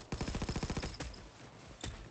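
Rapid automatic gunfire in the heist shooter PayDay 2 rattles in a quick burst of about a dozen shots, followed by a couple of single heavier cracks, loud and close in the game mix.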